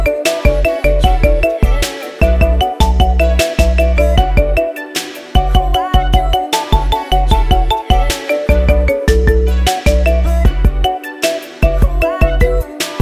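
Marimba remix ringtone, loud and steady: bright mallet notes over a thumping, punchy bass beat in a repeating looped pattern with short breaks.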